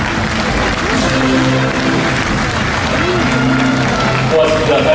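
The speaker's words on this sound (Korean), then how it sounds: "다 함께 일어나셔서 박수 보내주시기 바랍니다" An audience at a Rotary International district conference in a hall applauds, a steady wash of clapping that continues throughout while a voice and tonal sounds carry over it.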